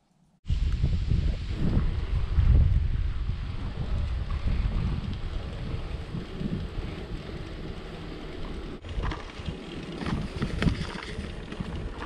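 Strong headwind buffets the microphone while a bicycle is ridden on a hot day, making a loud, continuous low roar and rumble with gusty swells. It begins abruptly after a brief quiet moment.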